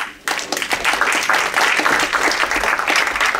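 A crowd breaks into steady applause, many hands clapping together, dense and fairly close, lasting throughout.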